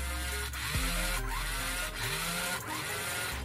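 A small DC motor driven by an L298N driver spins in reverse, a faint, buzzing whirr with a steady hum underneath and a few pitch sweeps as its speed shifts.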